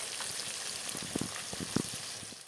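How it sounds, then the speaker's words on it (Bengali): Pieces of katla fish sizzle in oil in a pan, making a low steady crackle with clustered little pops and spatters near the middle. "মাছ ভাজা বসিয়ে দিলাম"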